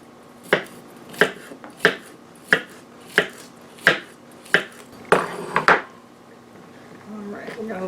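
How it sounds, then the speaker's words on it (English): A knife slices a cucumber very thin on a cutting board, about ten crisp, evenly spaced chops in a steady rhythm, followed by a couple of quicker cuts and some softer handling noise. "Then I'm going to take a cucumber here and just slice it very thin."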